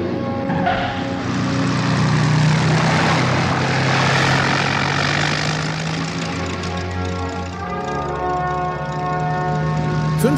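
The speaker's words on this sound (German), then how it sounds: "Pussy Galore wartet auf dem Landefeld, bis ihre Kunstflugstaffel gelandet ist." Propeller planes of an aerobatic squadron come in to land in a radio drama, a loud droning engine roar swelling and sustained for about ten seconds with pitch shifting as the aircraft pass, no voices over it.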